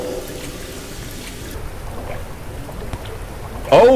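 Water sloshes and trickles in the game Depths of Fear: Knossos, a steady low wash of liquid throughout, ending with a sudden louder splash.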